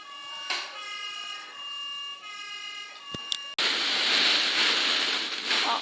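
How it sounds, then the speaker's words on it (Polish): A steady electronic siren tone from a model railway fire siren sounds for a few seconds, then cuts to a loud, continuous hissing rush. "czyli tutaj wycie syreny, a tu się naciska udawany ogień."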